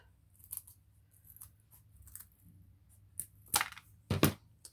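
A stick for a candle holder is cut with a couple of sharp, loud snaps near the end, after faint rustling and light handling noises close by.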